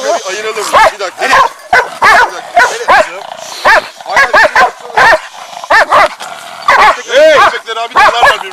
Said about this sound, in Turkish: Köpekler abi dalarlar birbirine.